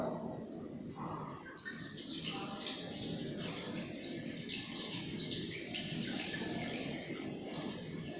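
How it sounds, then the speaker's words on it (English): Laboratory glassware is rinsed under running water during a chemistry salt analysis, giving a continuous faint gush and splash with small shifts as the glass is moved about, and no clear talking. "Then wash the plug glass with water."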